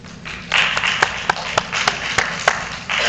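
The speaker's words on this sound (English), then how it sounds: "Could you give me a round of applause?" A church congregation claps after a program, starting softly and swelling into applause with several sharp, distinct claps standing out.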